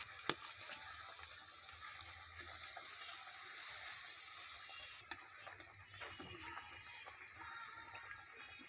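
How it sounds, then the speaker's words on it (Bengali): Water boils in a cooking pot for eggs, a faint, continuous soft bubbling and hiss with a few sharp clicks and pops scattered through it. "জলটা ফুটে গেছে"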